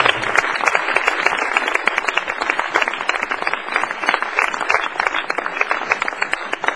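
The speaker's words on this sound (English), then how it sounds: "Let's give her a round of applause." Ceremony audience applauding at a fellows induction event, a dense, steady wash of many hands clapping throughout, fairly loud and continuous with no talk over it.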